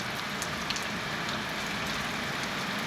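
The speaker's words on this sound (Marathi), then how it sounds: "खवास पूलमध्ये पावसाची हजेरी." Rain falls steadily in the village of Khawaspur, making a dense, even hiss of drops on surfaces that continues without a break and with no voices.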